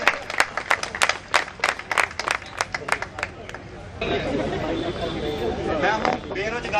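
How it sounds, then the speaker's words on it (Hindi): Audience clapping to welcome a speaker onto the stage at a networking event: a few seconds of distinct, fairly close hand claps, then a noisier stretch of clapping mixed with crowd chatter. "जोरदार तालियों के साथ स्वागत हो जाए"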